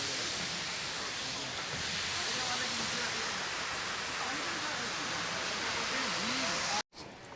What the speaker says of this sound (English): you can see a beautiful waterfalls here on the way